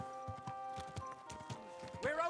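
Horse hooves clip-clopping on the ground in the medieval video game Kingdom Come Deliverance 2, a steady run of moderate hoofbeats mixed with other game sounds.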